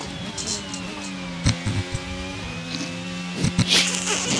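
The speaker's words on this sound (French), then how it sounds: "c'est la première fois que j'entends le moteur Mercedes là" Mercedes Formula 1 engine in the F1 22 racing game, a steady high-pitched whine holding through the clip with a fainter low drone beneath, dipping slightly in pitch midway, with a few brief bumps and clicks.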